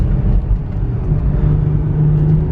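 A Volkswagen Touareg TDI diesel SUV with 208,000 miles launches hard from a standstill with its wheels spinning, a loud low engine drone and rumble heard from inside the cabin, steady for the whole stretch with no talking.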